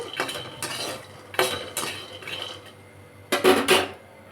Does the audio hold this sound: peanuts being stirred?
yes